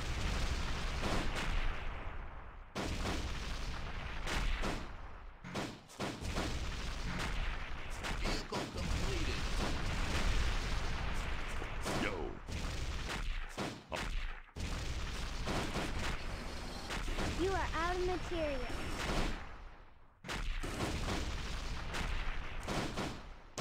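Gunfire from units in the real-time strategy game Enemy Nations, a dense, continuous crackle of shots and booms with brief gaps, loud and sustained, no talk over it.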